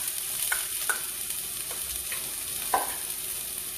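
Garlic and scallions fry for fried rice in a hot pan, a steady close sizzle punctuated by a few quick spatula taps and stirs.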